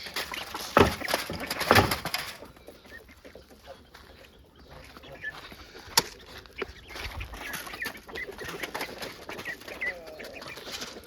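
Chickens on a farm at morning feeding cluck in scattered bursts alongside other fowl, with a few louder knocks and rustles and a constant low outdoor background.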